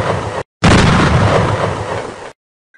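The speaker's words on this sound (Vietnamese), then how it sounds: "Cũng vừa kịp lúc đạn pháo nổ" An artillery shell explodes in a loud, close blast: a short burst, then a longer roaring rumble that cuts off abruptly into silence.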